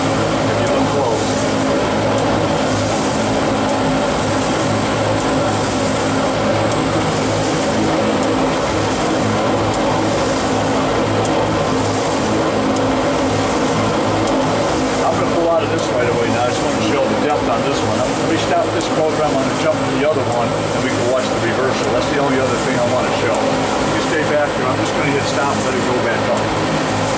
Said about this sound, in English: We are moving some media just with the agitator.